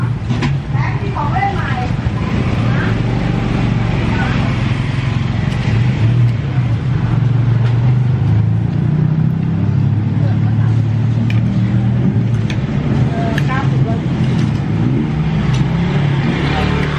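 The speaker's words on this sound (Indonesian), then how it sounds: "Ni dia balik kerja. Bunyi motor bising kan muka." Steady, loud road traffic in a Bangkok street with motorcycle engines droning and passing close by, continuous throughout, with no clear talk.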